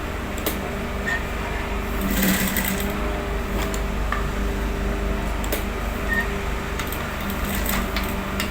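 A sewing machine stitches a shirt cuff and vent placket with a steady, continuous close whirring hum and faint ticks throughout.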